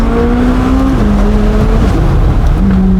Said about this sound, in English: So here we go, downshifting.